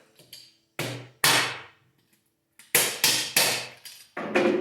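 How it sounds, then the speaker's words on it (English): A soft dead blow hammer strikes a 1963 Harley-Davidson Panhead engine part in sharp, separate blows: two, a pause, then a quick series of four or five close up. "Soft dead blow hammer."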